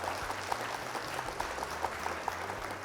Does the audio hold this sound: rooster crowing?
no